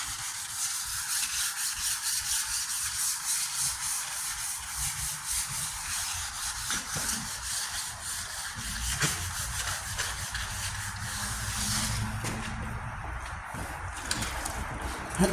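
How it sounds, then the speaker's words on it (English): Wet sanding by hand on a rusted 1998 Ford Ranger tailgate panel during repair, a steady close scratchy rubbing with rhythmic back-and-forth strokes continuing throughout. "Wet sand in the panel."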